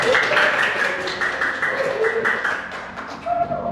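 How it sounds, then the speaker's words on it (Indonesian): Audience applause at a university teacher-training seminar, continuous clapping from a room of people with voices talking over it throughout. "beri tepuk tangan yang meriah"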